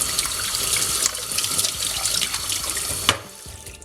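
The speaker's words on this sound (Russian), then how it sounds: "сразу я горячо выливаю через сито и обливаю холодной водой" Hot water from cooking scalded onions pours through a sieve, then cold water splashes over it in a steady, loud rushing stream like a running tap, ending with a few clanks near the end.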